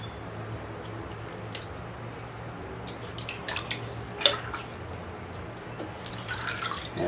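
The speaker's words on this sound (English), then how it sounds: "I'll have to kind of comb and wash in the bucket to get the rest of it out" Bonsai seedling roots washed and combed in a bucket of water, making soft, irregular splashes, drips and sloshes over quiet ambient hum, close and gentle, with no one speaking.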